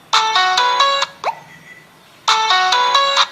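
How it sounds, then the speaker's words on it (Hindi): An HMD 110 mobile phone plays a bright electronic ringtone melody loudly and close, a quick run of tones, a brief pause with a faint blip, then the tune repeats. "ठीक है, इतने रिंगटोन दिया हुआ है।"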